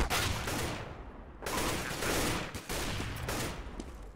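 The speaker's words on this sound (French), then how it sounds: "Gobi qui tombe sous les balles de Device." Rapid automatic gunfire rattles in dense, sustained bursts during a Counter-Strike match between TSM and mousesports, loud and close, with brief gaps between volleys.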